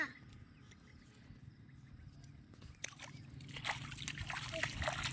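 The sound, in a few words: splashing rain water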